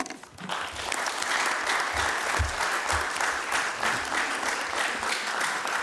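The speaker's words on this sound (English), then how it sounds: "we can give them a quick round of applause" At a county commission meeting, a room gives a quick round of applause, steady clapping from a modest crowd lasting several seconds with a few low thumps underneath.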